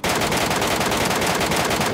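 Sustained automatic gunfire in PUBG Mobile Metro Royale, a dense, loud burst of rapid shots rattling continuously for two seconds.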